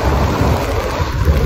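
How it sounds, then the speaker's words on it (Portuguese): Heavy rain pours down steadily outdoors in Rothenburg ob der Tauber, Germany, a loud, dense wash of falling water with low rumbling, no voices. "E agora caiu bastante chuva."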